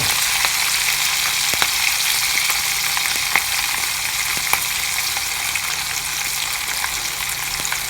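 Chopped garlic sizzles steadily in hot oil for a spinach dal, a loud, continuous frying hiss with occasional sharp crackles and pops throughout.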